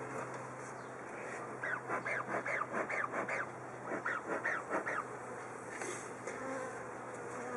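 Honeybees swarm around an open hive, a dense, close buzzing that swells into pulsing waves of wingbeats and then settles back to a steady hum.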